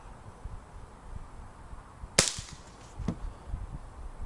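A single sharp, close crack from a vintage Crosman Mark 2 CO2 pistol firing, followed by a fainter second report about a second later, over low background rumble.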